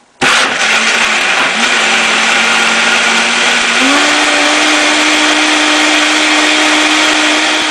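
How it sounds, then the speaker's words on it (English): A Turbo Blend 4500 blender running on its low speed, blending coconut meat with coconut milk and spices, kicks on abruptly into a loud, steady motor whine that rises slightly in pitch partway through, with no talking. "So this is a turbo blend 4500, which only has 2 speeds. We'll start off on the low speed."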